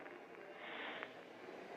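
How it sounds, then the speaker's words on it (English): A faint, steady hiss like a Fourth of July rocket, a sound effect from the 1938 War of the Worlds radio drama, swells softly in the middle and lingers quietly to the end. "A hissing sound like this."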